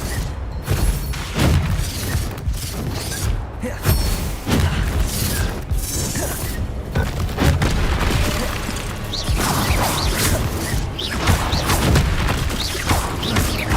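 Repeated Confringo blasting spell explosions in the Hogwarts Legacy video game, a loud, busy stretch of booms, crashes and shattering hits mixed with other spell effects, arriving in frequent irregular bursts.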